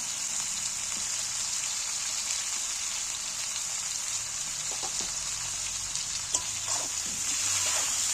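Capsicum, green chili and tomato fry in a pan for a jackfruit curry, giving a steady, even sizzle with light crackles and a few faint taps partway through, fairly close and with no voices.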